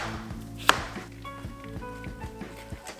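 A knife chops a cucumber on a cutting board for a salad with romaine lettuce and cherry tomatoes, giving a steady series of close, crisp chops, one sharper impact standing out early, with soft background music underneath.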